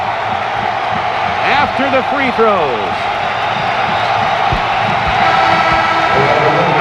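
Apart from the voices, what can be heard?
basketball crowd cheering as Magic Johnson returns to the NBA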